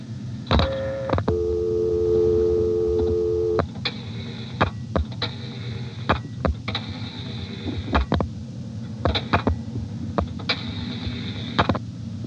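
Dialing through a 1973 XY step-by-step telephone exchange in Dale City, Virginia: a steady tone gives way to rapid clicking relay pulses and clattering switch mechanisms in irregular bursts, close and clear.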